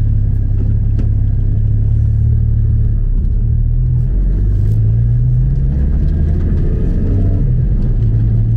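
Porsche Cayman GT4 981 with a Dundon tune and valves still closed, driven gently in normal mode: a steady, low, dark engine drone with a few soft rises in pitch as revs climb, continuous and fairly loud from inside the car.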